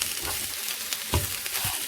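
Spinach stirred in a hot cooking pan for a Thai-style sea bass and coconut rice dish, with a steady close sizzle and a few scraping utensil strokes, no talking.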